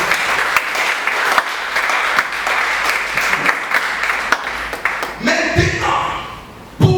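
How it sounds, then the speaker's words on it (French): A church congregation breaks into sustained applause close around the listener, dense clapping that fades out near the end as music and a voice come in. "Acclamons pour la gloire du Seigneur."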